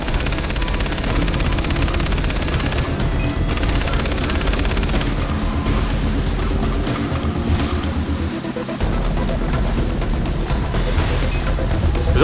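Dense, continuous automatic gunfire from the video game Far Cry 3 runs as sustained rapid bursts throughout, loud and alone with no talk.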